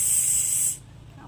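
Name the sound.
pressure cooker hissing steam while cooking rice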